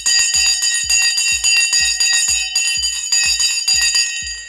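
An electric bell rings to open the stock trading day, its bright metallic clangs striking about eight times in a steady, fast rhythm, loud and close, with no voices.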